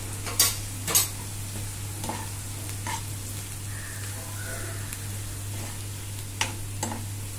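Kolhapuri masala sautéing in a pan for a Kolhapuri tambda rassa, with a low steady sizzle broken by a few sharp spoon scrapes and stirring knocks, close and clear, no voices.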